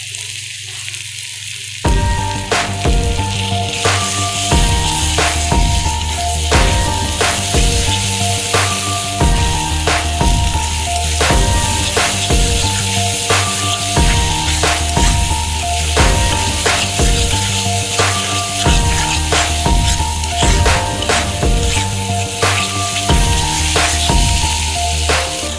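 Spice paste for Kolkata-style chicken biryani frying in a pan, a loud, dense, continuous sizzle that starts abruptly after a brief quiet moment and runs steadily throughout, with faint stirring taps.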